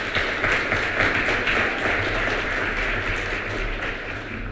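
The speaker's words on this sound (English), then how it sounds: "give him a round of applause." An audience at a ciWeek 2018 event applauds in a steady, dense wash of clapping that holds at an even level throughout, with no voices over it.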